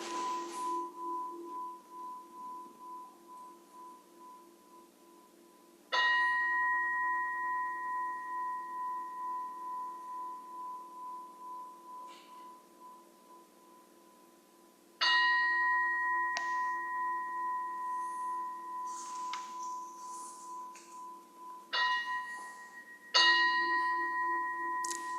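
Meditation bells ring before a Buddhist chant: several separate metallic strikes, each a clear sustained ring that slowly decays, spaced unevenly with a few struck close together near the end, in a quiet room.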